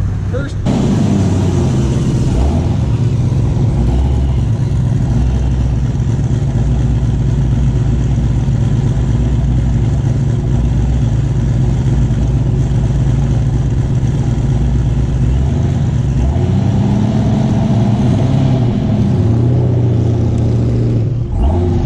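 Street racer class cars in a drag race, a loud continuous engine rumble and revving roar that holds steady for about twenty seconds before easing off, close and heavy throughout.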